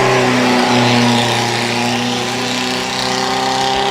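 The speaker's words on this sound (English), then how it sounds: "the little 750cc engine making all the right noises" A vintage sports car with a small 750cc engine climbs a hill at a hillclimb event, its loud, buzzing exhaust note held steady and close for several seconds with a slight rise and fall in pitch.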